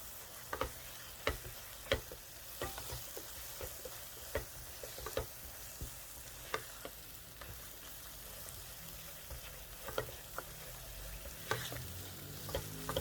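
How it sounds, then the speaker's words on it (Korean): Churro dough stir-fried in a nonstick pan over medium heat, a soft steady sizzle broken by regular scraping ticks of the spatula, close and fairly quiet with no talk. "날 밀가루가 보이지 않게 골고루 골고루 반죽을 볶아주세요."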